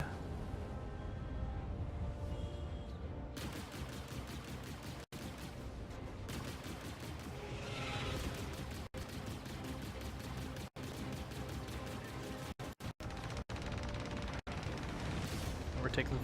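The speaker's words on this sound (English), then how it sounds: "we're taking fire to the rear there" Enemy weapons fire in the space game Star Citizen as a fairly quiet, steady rattle of shots under a low droning hum, broken by sharp brief cutouts, with a voice talking over it.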